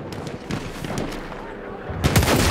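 Gewehr M.95 rifle gunfire in the video game Battlefield 1, several sharp, booming shots spaced irregularly over a couple of seconds, with the last and loudest near the end amid background game noise.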